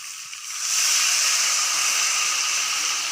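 Water poured into a hot pan of spiced okra curry sets off a sudden loud, broad hiss of steam and sizzle that swells after a moment and holds steady without talk.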